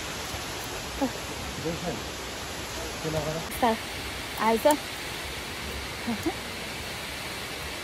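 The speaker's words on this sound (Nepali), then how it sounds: "झरनाको पानीको कलकल बगिरहेको झरना" Water of Amicalola Falls pouring in a steady broadband rush that fills the scene, with a person speaking briefly over it.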